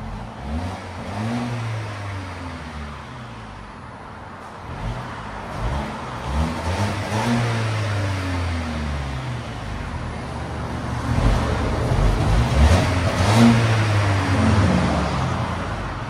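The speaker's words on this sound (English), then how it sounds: "We got a 2019 Volvo S60 T6 all-wheel drive. This is what it sounds like before." A 2019 Volvo S60 T6 all-wheel drive with its 2.0L turbo engine and stock exhaust revs repeatedly, rising and falling in several clear sweeps; moderately loud and close, with no talking.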